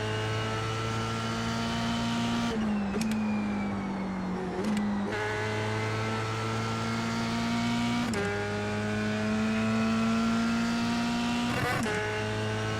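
F3 race car in iRacing at Watkins Glen, its engine droning loud and steady with a sharp dip and recovery at each gear shift, one of them a slightly fumbled shift, repeating every few seconds.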